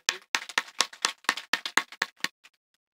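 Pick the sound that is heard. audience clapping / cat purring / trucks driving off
audience clapping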